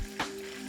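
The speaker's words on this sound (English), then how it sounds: "We're going to add the bacon." Bacon hits hot vegetable oil in a pan with a short, bright burst of sizzle, then settles into a steady close frying hiss.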